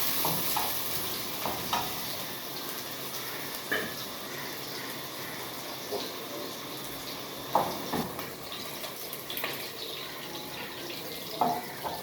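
Onion, garlic and green chili soften in hot oil, with a soft continuous sizzle punctuated by occasional scraping stirs and clinks at irregular intervals throughout.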